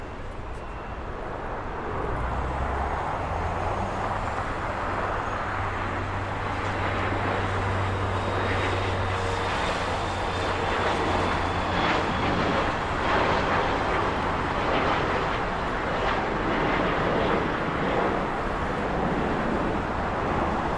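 Airliner landing at LAX, a low, broad roar that swells and holds for a long stretch, distant yet steady, blended with background traffic hum, with no talking.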